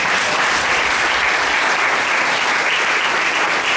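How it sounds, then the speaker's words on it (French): A church congregation at a Sunday service bursts into loud, sustained applause, dense clapping that holds steady throughout without a break. "Est-ce qu'on peut acclamer la parole?"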